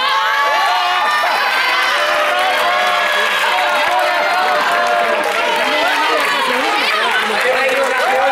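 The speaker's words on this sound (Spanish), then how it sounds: "¡Un aplauso para vosotros!" Children's crowd cheering and shouting loudly and steadily throughout, a dense wall of excited voices during a classroom-style team game. No distinct clapping stands out.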